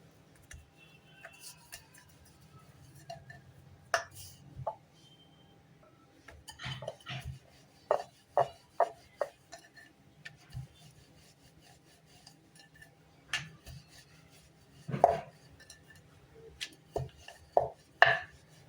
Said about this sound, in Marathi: आपण यांना आता लाटून घेऊया